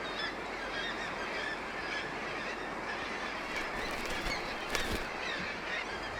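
A seabird colony on the Chukotka coast fills the air with a dense, continuous wash of distant honking and squawking calls. Wind and surf blend into the chatter, with a slightly louder burst near the end.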